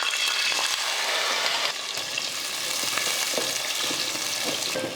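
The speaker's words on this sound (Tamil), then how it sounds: "வெங்காயம் இந்த மாதிரி சாஃப்டாக வதங்கணும்" Small onions and curry leaves fry in a pan, a loud continuous close sizzle with scraping stirs and a brief dip partway through, no voices.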